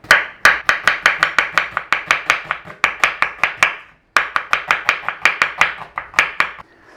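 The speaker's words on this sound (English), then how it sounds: "Nice and paper thin like that. So just take your time, nice and steady, do all your onions" A knife slicing onions paper thin on a cutting board in quick, even rhythmic chops, each stroke a crisp close tap. The run stops for a moment midway and then resumes at the same steady pace.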